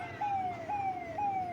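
A fire brigade truck's siren wails in repeated rising-and-falling sweeps, three cycles over a low rumbling background, moderately distant amid a village fire scene.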